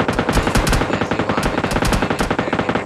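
Rapid automatic MK rifle fire in the mobile shooter game PUBG Mobile Lite, dense bursts of cracking shots filling the whole stretch with almost no pause, loud and continuous.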